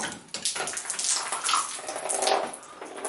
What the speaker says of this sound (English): that's just water coming from the shower head